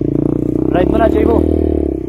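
A motorcycle on a dirt trail runs close by with a low, steady engine drone, while a person talks briefly over it.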